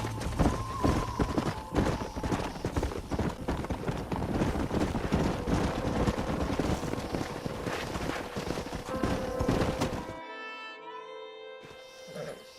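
Horse hooves clip-clopping in the Red Dead Redemption western video game, a busy rhythmic patter of several horses that runs steadily for about ten seconds, then cuts to quieter game sounds.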